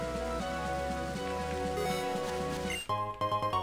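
Steady rain falls on Route 12 in Pokémon White 2, a constant patter running under looping in-game music, with the rain continuing as the tune shifts near the end.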